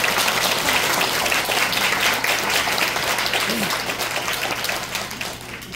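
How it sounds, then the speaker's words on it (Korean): A conference audience gives a sustained round of applause for a visiting professor, a steady wash of many hands clapping that gradually fades toward the end. "먼 발걸음 해주신 이대송이 교수님께 다시 한번 큰 박수 부탁드립니다."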